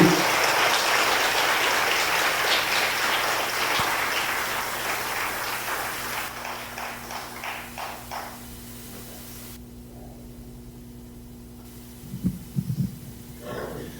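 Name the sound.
church congregation applause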